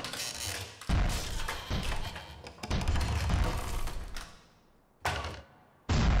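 A defeated robot boss blowing apart in Super Mario Odyssey's Bowser's Kingdom: a run of heavy crashing, clanking bursts that fade out, followed by two sharp, loud blasts near the end, with no talking.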